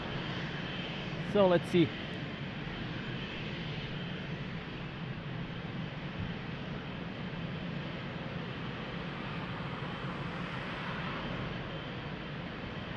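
At Lisbon Airport, a steady broad airplane engine roar fills the runway scene at moderate distance, holding constant throughout, with a short burst of speech early on.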